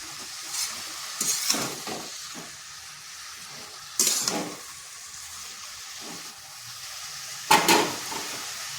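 Bottle gourd sautéing in a pan on medium heat, releasing water as it cooks: a soft steady sizzle broken by three or four louder bursts of stirring and hissing steam, close up with no talking.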